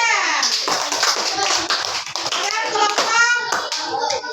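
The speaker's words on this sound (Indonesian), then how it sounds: "Tepuk tangan untuk kelompok dua." Children in a classroom clap for a group of classmates, quick scattered claps mixed with kids' voices and an adult talking over them throughout.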